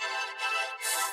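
A bright, buzzy tonal sound effect from the Colour Forge preset pack by Nasko for Kilohearts, holding a steady pitch and shifting texture twice, growing brighter toward the end.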